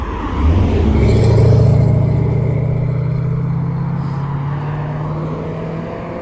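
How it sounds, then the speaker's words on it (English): A car drives fast along Portland Street, its engine a loud, close, steady drone that swells early and then holds. No voices. "This guy's driving too fast here."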